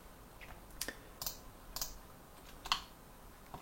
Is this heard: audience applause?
no